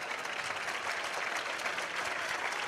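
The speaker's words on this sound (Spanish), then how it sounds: "Aplaudiments per als que entren i per als que ixen." Football crowd at a CF Gandia versus Castellonense match applauding a triple substitution, a steady wash of clapping from many hands that holds evenly throughout, moderately distant.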